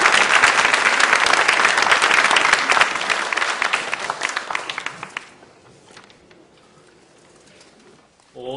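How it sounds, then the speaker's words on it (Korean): A church congregation claps in encouragement, loud dense applause that tapers off after about five seconds into a quiet room with scattered faint claps. "수고하신 모든 분들을 위하여 격려의 박수하겠습니다."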